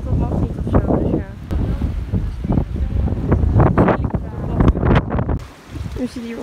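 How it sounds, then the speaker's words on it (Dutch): Strong wind buffets the microphone on a beach in Curaçao, a loud, gusty low rumble with bursts, while voices talk in Dutch over it. "Er staat veel wind."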